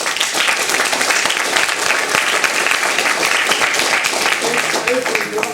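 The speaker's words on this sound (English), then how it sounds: "I would also like to give everyone applause to the panelists." Sustained audience applause for panelists at an academic advisory board conference on culture and development, a dense steady wash of many hands clapping, loud and continuous throughout.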